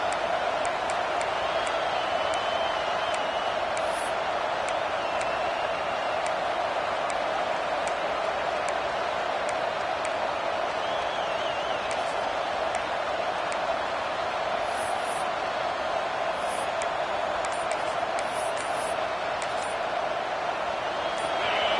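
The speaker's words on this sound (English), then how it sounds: "This offense trying to quieten the crowd on first and goal, and they are not cooperating." A stadium crowd at a Texas vs LSU college football game roars in a dense, sustained wall of noise, with whoops and a commentator's voice over the top.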